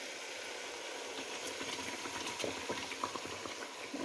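A stew of onion, salted fish and pepper cooks in a pot, giving a soft, continuous bubbling sizzle with scattered small pops and crackles, fairly quiet and without voices.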